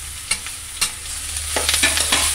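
Crushed tender jackfruit, pounded on a stone, is stirred into hot oil with popped mustard seeds and curry leaves: two sharp clatters, then a steady soft sizzle with scraping stirs.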